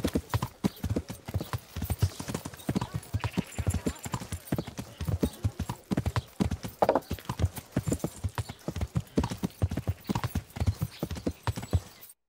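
Horse hooves clip-clop steadily in Kingdom Come: Deliverance, a continuous rhythmic trot of fairly close footfalls running throughout, with a brief whinny mixed in.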